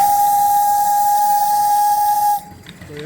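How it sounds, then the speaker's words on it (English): An old antique steam whistle on a steam boiler blows one loud, steady, piercing tone with a hissing rush for over two seconds, then cuts off sharply. "I want to talk about this whistle here."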